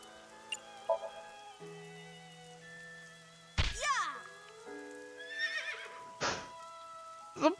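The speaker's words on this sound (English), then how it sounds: "Fine, we have enough time to spank the horse." A horse in the video game AI: The Somnium Files neighs and whinnies while being struck, with sharp hit sounds landing in separate bursts between quieter musical tones, fairly faint overall.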